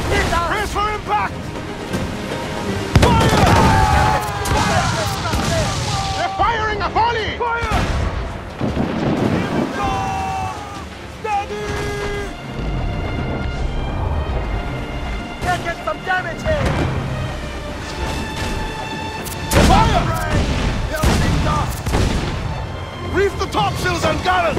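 Cannon broadsides boom repeatedly from a sailing warship in the Assassin's Creed IV Freedom Cry video game, with waves, wind and creaking ship sounds and loud shouted orders over the barrage.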